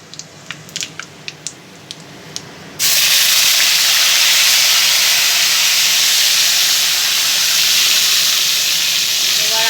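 Spice tempering of dry red chillies and bay leaf in hot oil, a few light clicks first, then a sudden loud, dense hissing sizzle as the spices hit the pan, holding steady and close until the end.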